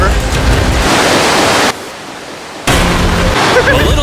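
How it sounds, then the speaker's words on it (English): River water rushes through a cave in a loud, steady broadband roar that drops briefly to a quieter wash midway before surging back to full strength. "this river actually runs throughout the entire cave"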